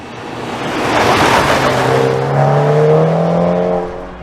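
A BMW M135i's 2.0-litre four-cylinder engine revs up, a rising, loud tone that swells and holds near the end before easing off, with no voices.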